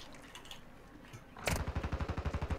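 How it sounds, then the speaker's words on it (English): Automatic weapon fire in Call of Duty Warzone 2: a quiet lull, then a sharp rapid burst of evenly spaced shots, about a dozen in quick rhythm, loud and close. "It was automatic weapon fire."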